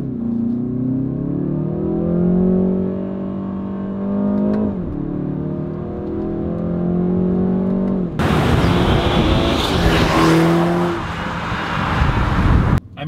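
A 2020 BMW 330i G20 M Sport drives on an open road, its engine note rising and falling through gear changes with steady road and tyre noise, growing louder and rougher in the second half; no talk.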